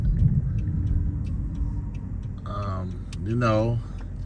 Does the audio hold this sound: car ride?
yes